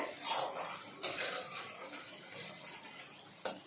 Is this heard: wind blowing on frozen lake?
no